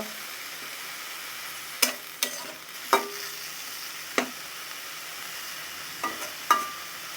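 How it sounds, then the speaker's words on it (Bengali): Dondokolos leaf bharta ingredients frying together in a pan, with a faint sizzle under a handful of sharp clinks and scrapes of a spatula stirring at irregular intervals, close and otherwise quiet. "সব উপকরণ একসাথে নিয়ে এখন ভালো করে ভেজে নিব"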